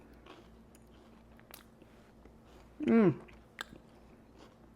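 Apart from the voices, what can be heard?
person biting and chewing a piece of orange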